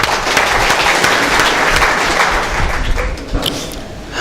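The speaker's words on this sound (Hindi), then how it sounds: "एक बार मेरे सम्मान में जोरदार तालियां बजाओ।" Loud, dense applause from a large audience at a Hindi poetry recital in Mumbai, steady clapping throughout with a few heavier thuds, no voices on top.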